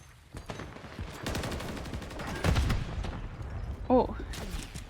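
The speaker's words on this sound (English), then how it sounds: "Someone shoot?" Gunfire in an Avatar video game lobby, a few sharp shots and a burst spread across a busy multiplayer scene, mid-distance and moderately loud, with voices chatting underneath.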